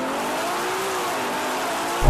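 A Ferrari launches hard with wheel spin, a loud sustained engine roar with a rising pitch held across the whole stretch and a burst of low rumble right at the end, with no voices.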